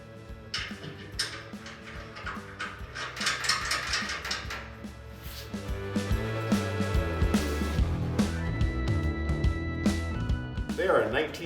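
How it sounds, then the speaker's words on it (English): A ratchet tightens a 19 mm bolt and nut on a snow plow mount for a Honda Pioneer 520 utility vehicle, giving close, quick mechanical clicks and clacks mixed under someone talking. "They are a 19 mil bolt and nut, and you can tighten them up at this time."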